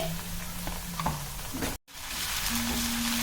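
Egg frying directly in a pan of hot oil, a steady close sizzle and crackle with a brief cut midway before the hiss resumes, no talking.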